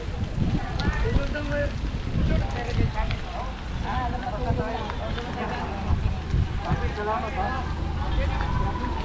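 Steady rain patters and hisses across a surface during a charity motorcycle ride in Marikina, with gusty wind and a rumbling engine-like drone underneath as people talk over it.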